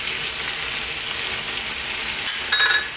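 Turmeric, cumin, coriander and chili powders sizzle steadily in a hot pan for a potato and peas curry, a close, even hiss with no talking.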